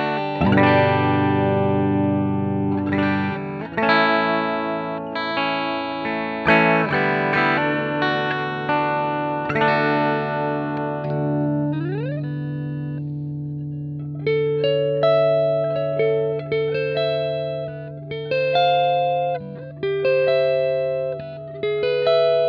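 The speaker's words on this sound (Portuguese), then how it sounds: "Esse daí seria então o canal limpo do JCM900" Electric guitar played through a simulated Marshall JCM900 clean channel: sustained chords ring out first, followed by clear picked single-note phrases, all loud and close with no talking.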